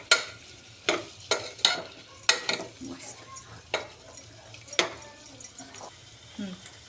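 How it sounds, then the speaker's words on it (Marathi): Two spoons of yogurt being stirred into vegetable pulao in a pot, with a string of sharp metal spoon clinks and scrapes against the pot over a faint background hiss. "दोन चमचे दही टाकूया आपण छान हलवून घेऊया"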